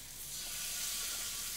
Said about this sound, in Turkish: derisi alta gelecek şekilde koyup kızarttım